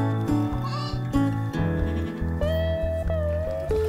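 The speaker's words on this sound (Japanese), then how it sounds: "今羊とヤギを捕まえてるところです" Sheep and goats in a Mongolian nomad camp bleat in a dense, overlapping chorus, with several close, loud calls piling on top of one another over the whole span.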